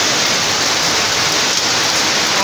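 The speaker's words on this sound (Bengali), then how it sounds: "শিলা বৃষ্টি হচ্ছে, এই দেখুন শিল পড়ছে" Hail and heavy rain pound down during a sudden Kalbaishakhi storm, a dense, loud and constant roar of impacts on surfaces with no voices.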